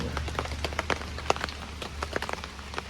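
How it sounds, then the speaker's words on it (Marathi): Rain patters nearby at a campsite with irregular sharp drops landing over a low steady hum, no voices present. "पाऊस आहे"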